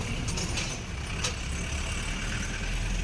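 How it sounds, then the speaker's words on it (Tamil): A jeep climbs the hill road up to Tirumala in the early morning, its engine a steady low rumble with road and wind noise throughout, plus a few faint clicks and no talk. "ஜீப்பில் தான் மேலே போகிறோம்"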